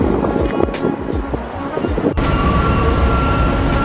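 A New York elevated subway train, the 7 Flushing line, rolls in with a rhythmic clatter of wheels over rail joints, followed by a steady rumble with a faint high whine, close and fairly loud.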